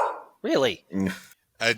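A dog lets out three short, loud barks and yips close by, separated by brief silences.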